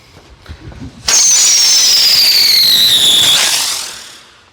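A Red Rhino ladybug aerial spinner firework lets out a loud, piercing whistle that slides steadily downward for about two seconds, then fades into a hiss, with no talk.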